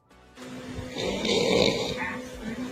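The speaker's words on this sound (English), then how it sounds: "Is that your snoring ass?" A person snoring with a rough, rumbling breath that swells to a louder peak midway, steady and fairly close, with no talking.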